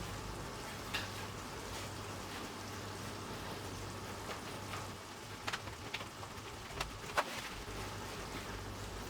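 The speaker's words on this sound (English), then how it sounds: "we can start frying them immediately." Faint, steady sizzling of vegetable slices frying in oil in a hot pan, a low hiss with a few small crackles and pops and no voices.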